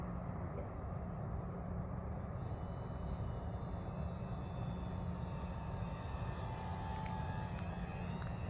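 A small UMX Turbo Timber RC airplane flies slowly overhead with its flaps deployed, its electric motor producing a steady, distant buzz mixed with constant outdoor wind rumble.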